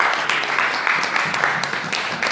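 A church congregation applauds at a French-language worship service, with dense, continuous clapping from many hands, fairly loud and close, sustained without pause.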